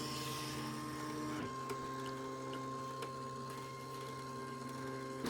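An electronic cutting machine slices paper for a ribbon box, a low steady motor hum with faint clicks and soft carriage movements, quiet and without talk.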